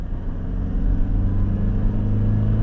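Toyota Fortuner 2.4 TRD diesel automatic from 2019 accelerating uphill from 60 to 80, a steady, loud low engine drone with a rising rumble heard from inside the cabin.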